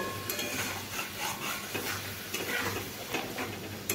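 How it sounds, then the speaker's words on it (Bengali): Green plantain pieces frying in spices in a pan, a steady close sizzle with scraping stirs of a spoon against the metal, continuous and fairly loud with no talking. "এবারে মশলার সঙ্গে সবগুলোকে ভালোভাবে মিশিয়ে এইভাবে আমি ভেজে নেব বা ভালোভাবে আমি কষিয়ে নেব।"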